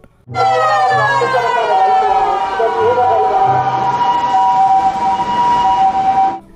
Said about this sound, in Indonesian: Wadidaw, lihat teman-teman, ada mobil ambulan.